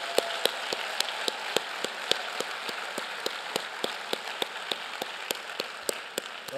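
Sparse applause for elected officials and veterans at a Charlotte, North Carolina economic development gathering, a small audience clapping in a loose, scattered rhythm of sharp individual claps, fairly close and moderately loud, with no talk over it.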